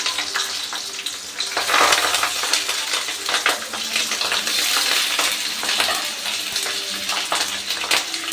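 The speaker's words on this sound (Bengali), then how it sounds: "এবার আমি তেলে একে একে এই যে এই পাতুরিগুলো এইভাবে দিয়ে দেবো।" Bhetki fish paturi wrapped in banana leaves fry in hot mustard oil in a kadai, giving a steady, loud, bubbling sizzle with occasional spattering pops and no talking.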